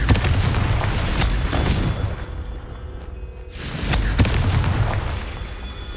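Fiery spell blasts of Confringo in the video game Hogwarts Legacy, loud booming bursts over a dense rumbling game background that drops briefly to near silence midway, then resumes with more blasts.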